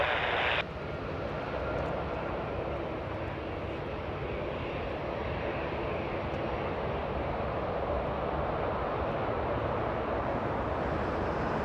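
A plane, likely an Airbus A320 from Atlanta, lands at Los Angeles International Airport, a steady broad jet roar that holds evenly loud and distant-to-mid range throughout after a brief cut at the start, no voices.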